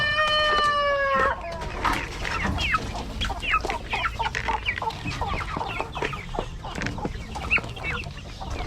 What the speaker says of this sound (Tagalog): Malalaki na yung mga manok ko.